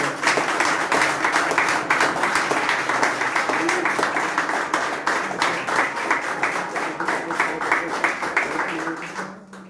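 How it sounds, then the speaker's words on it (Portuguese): A church congregation claps steadily for the Lord in celebration, dense continuous applause from many hands filling the room, loud and unbroken until it tapers off at the very end. "aplauda o Senhor com palmas de vitória"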